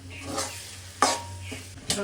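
Leafy greens fry in oil in a pan with a steady sizzle, interrupted by sharp scrapes and clacks of a spatula stirring against the metal.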